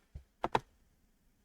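A few close, crisp clicks of a computer mouse or keys in a quiet room, three quick taps in close succession followed by one more after a short pause.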